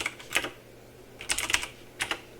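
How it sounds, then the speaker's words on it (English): Rapid clusters of keystrokes on a computer keyboard as text is entered in all caps, coming in two or three short bursts separated by brief pauses, close and crisp with no voices. "we're going to start typing our text all in all caps"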